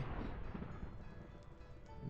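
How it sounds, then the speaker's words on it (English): Low rumbling thunder in the FooCraft video game, a steady broad roll that stays fairly faint and continuous for a couple of seconds without distinct cracks. "That was thunder."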